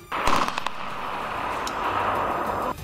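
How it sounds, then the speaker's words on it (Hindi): A Russian T-80 tank firing shells during training: a sharp blast near the start, then a sustained broad roar that holds steady for a few seconds before cutting off, with no voices. "नए सैनिक T-80 टैंक चलाते और उससे ताबड़तोड़ गोले दागते नजर आए"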